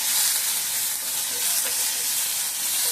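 Onions and vadagam sizzling in hot oil in a pan, a dense, steady frying hiss that stays loud and even throughout with no talking.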